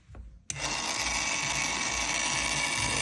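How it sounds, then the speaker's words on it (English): A motorized tool chamfers and deburrs a trimmed 300 AAC rifle case, starting abruptly with a click into a close, steady high-pitched whir that runs continuously without a break. "you're going to need to chamfer and deburr first"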